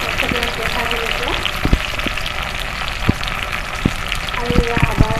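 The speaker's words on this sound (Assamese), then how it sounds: "এয়া পিঁয়াজখিনি ভাজ খাইছে।" Onions fry in a pan, crackling and sizzling steadily up close with scattered sharper pops, while a voice speaks over the cooking.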